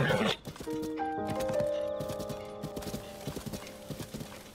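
Horse hooves gallop in the video game Zelda: Tears of the Kingdom, a quick rhythmic clip-clop under melodic game music, with a neigh near the start.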